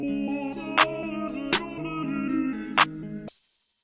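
A clap sample repeats through a hip-hop beat, sharp bright hits landing three times over a tonal chordal loop before the music cuts off abruptly into a brief hiss.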